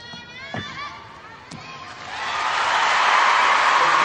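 A crowd at a 2002 Commonwealth Games gymnastics balance beam final swells into loud, sustained cheering and applause after a couple of sharp landing thuds.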